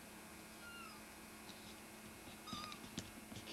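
A house cat meows softly indoors a couple of times during a home walkthrough, the short faint cries rising out of a quiet room tone.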